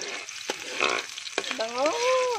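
Garlic frying in a pan while cooking Bicol-style chicken adobo, a steady close sizzle with a couple of short stirring scrapes and a brief high tonal squeak near the end.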